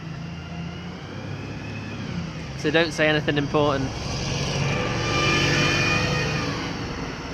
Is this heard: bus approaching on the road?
yes